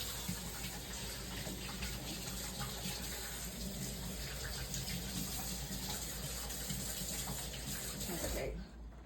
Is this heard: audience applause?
no